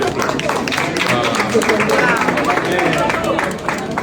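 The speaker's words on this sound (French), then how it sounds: "Il faut applaudir pour les" An audience applauds with a steady stream of brisk, dense clapping, close and fairly loud, as a crowd murmurs and voices talk over it.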